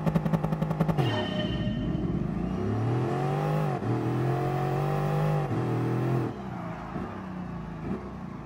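A Bugatti Veyron in Gran Turismo Sport races with rapid engine pulses at first, then repeatedly revs up and shifts gears, the pitch rising and dropping in loud, close sweeps.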